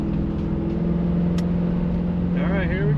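A Corvette revived after twenty years off the road drives onto the interstate in overdrive, its engine a steady low drone throughout with a rising whine near the end, and a voice speaking briefly over it.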